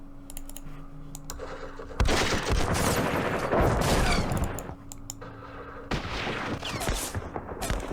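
Bursts of small-arms gunfire in a Vietnam War strategy game set at Ba Ria in 1968. Two loud, dense volleys of rapid shots, each lasting a couple of seconds, are separated by quieter ambient clicking.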